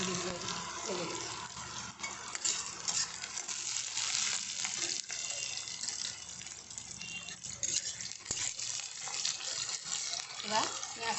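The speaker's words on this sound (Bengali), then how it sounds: "গোটা জিরেগুলো ভেজে গেছে" Whole cumin seeds frying in hot oil for chicken pulao, a quiet, steady sizzle with occasional clinks of utensils, and a voice faintly in the background.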